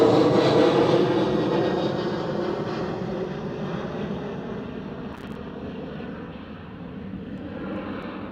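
A KLM Cityhopper Embraer E190 airliner at Schiphol airport roars with a loud, broad jet engine rush that slowly fades over several seconds, heard from outdoors at a distance.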